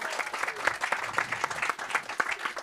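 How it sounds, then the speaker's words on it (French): Audience at a honey festival applauds quiz contestants, a fairly faint, steady patter of many hands clapping at a distance with light crowd murmur and no talk over it. "On peut les applaudir."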